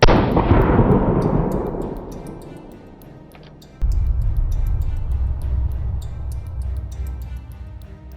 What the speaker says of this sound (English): Let's do another 410 shotgun shell, but this time triple-aught buck.